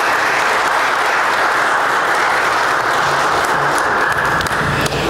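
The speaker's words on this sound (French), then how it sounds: "J'aimerais qu'on applaudisse toutes ces personnes." Church congregation at a Mass applauding the readers, singers and musicians, a loud, continuous roar of many hands clapping, filling the space evenly from start to finish.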